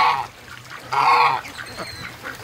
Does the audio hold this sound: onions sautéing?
no